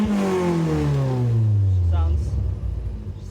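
A Toyota MR2 rallycross car engine revs loud and close, its note sweeping down steadily as the revs drop and settle into a rough, meaty rumble.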